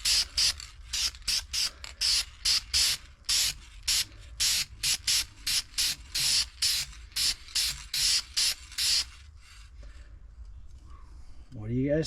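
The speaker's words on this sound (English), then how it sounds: "So we're going to be spraying." A spray gun applies clear gloss lacquer to a segmented wooden vase, loud hissing bursts repeating in a steady on-off rhythm for about nine seconds, then falling quiet.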